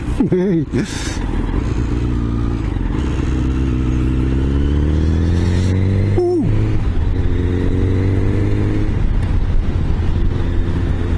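A 1988 Honda CBR1000F motorcycle being ridden, its engine droning steadily with rising and falling pitch as it changes speed, heavy wind buffeting, and a voice talking over it.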